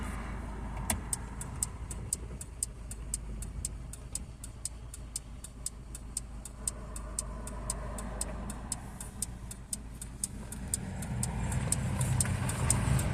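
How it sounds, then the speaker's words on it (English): A completely restored Citroen DS 21 Pallas on a test drive gives a quiet, steady road hum, with a regular ticking like a turn signal running throughout and the engine swelling slightly near the end. "Taking you guys on a quick test drive, my Citroen DS 21 Plus, completely restored"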